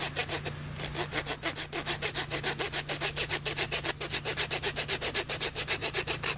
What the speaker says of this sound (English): I love this saw because this saw cuts fine.